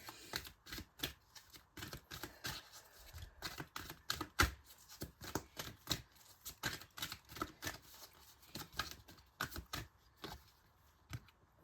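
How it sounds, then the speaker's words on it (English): Tarot cards being shuffled up close, a steady run of quick crisp riffling clicks and flutters, fairly quiet, with no talking. "I am going to be shuffling"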